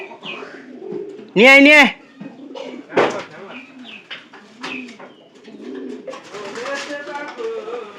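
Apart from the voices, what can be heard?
pigeons cooing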